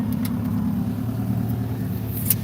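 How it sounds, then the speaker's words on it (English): A car engine with its catalytic converter stolen runs in a steady, loud, rough low drone close by, with no voices. "My car sounds like shit after they took my catalytic converter. It sounds like a lawnmower."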